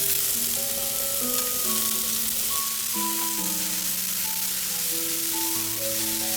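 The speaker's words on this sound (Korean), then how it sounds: "기름을 뿌리고 볶아주세요. 골고루 볶아주세요." Vegetables stir-fry in oil, giving a constant, even sizzling hiss throughout with faint stirring, under a background melody.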